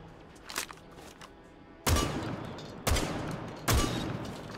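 A buck shotgun in Rainbow Six Siege fires three heavy blasts spaced roughly a second apart, each leaving a brief rumbling tail, after a stretch of quieter clicks and game ambience.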